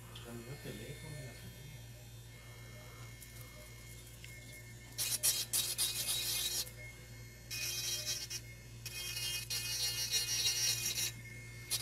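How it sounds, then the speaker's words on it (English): Mini toy electric nail drill filing long nails in a salon, a faint buzzing with bursts of louder grinding in uneven stretches, steady low hum beneath. "Of course, the Mini Toy Nail Drill"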